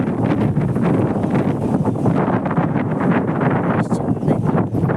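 Strong wind buffets the microphone outdoors in a park near water, a loud, steady roaring rush with gusty fluctuations and rustling throughout, no voices.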